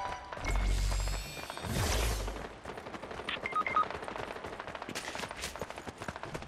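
A gun turret in a Transformers video game fires rapid bursts of shots, with thumps and whooshes between them, loud and close with no talking.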